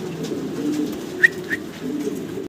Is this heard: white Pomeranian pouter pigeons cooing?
yes